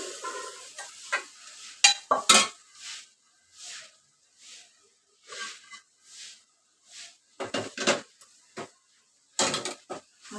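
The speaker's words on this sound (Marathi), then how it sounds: "सोयाबीन टाकायचं आणि चांगलं घळून द्यायचं" Soybean chunks for bhurji are stirred and fried in a pan, giving repeated scraping strokes of the spoon and short bursts of sizzling at an uneven rhythm, close and without speech.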